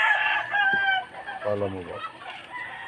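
Fighting roosters on a farm crow and cluck close by, one long crow followed by a short burst of clucking, with a brief spoken question in between.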